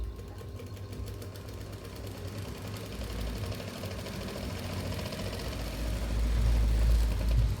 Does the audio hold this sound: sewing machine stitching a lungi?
yes